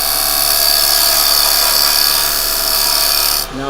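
A lathe cutting a yew wood bowl makes a loud, steady whining rasp with a high tonal edge that holds evenly, then drops off abruptly at the very end.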